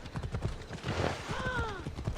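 Horse hooves clip-clop in a steady rhythm inside Assassin's Creed Odyssey, up close and moderately loud, with a brief whinny-like rising call near the end.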